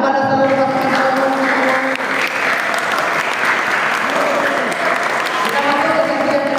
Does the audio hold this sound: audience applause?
yes